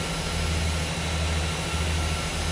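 A loud, steady engine drone from an aerostat airship in the Technobabylon video game, a constant low roar with a whooshing high hiss running unbroken throughout.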